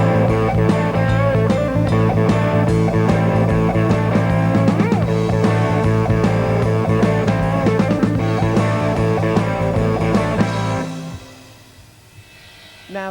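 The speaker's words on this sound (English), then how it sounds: "the blues shuffle becomes the HM boogie" Heavy metal band locking into a driving boogie rhythm with distorted guitars, bass and drums, loud and steady for about eleven seconds before cutting off into near silence.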